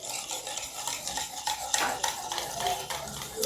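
Milk powder, 100 grams of Amul, is stirred into a bowl of lukewarm water for a cake batter, giving a steady close scraping and swishing with light clinks of a spoon against the bowl, and no one speaks.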